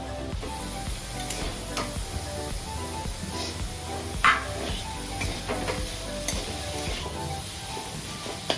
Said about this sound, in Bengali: ভালো করে সবজিটা পনিরটাকে মিশিয়ে নেব